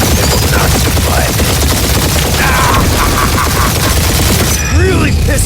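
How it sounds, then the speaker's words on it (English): A sustained barrage of gunfire rages in the Guardians of the Galaxy video game, loud dense rapid shots and booms without pause, with battle voices and effects layered over the din. "Keep up the barrage."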